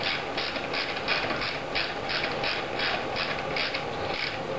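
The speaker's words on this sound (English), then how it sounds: "Use your 15 millimeter to tighten up one side" A 15 millimeter ratchet wrench tightening a nut during ArticRigs R1 assembly, a steady run of quick rhythmic clicks from the pawl, close and fairly quiet, with no talking.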